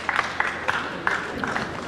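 Scattered, fairly light audience clapping follows a shot at a World Pool Championship 9-ball match, a few distinct claps rising over a low room murmur.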